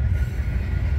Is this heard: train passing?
yes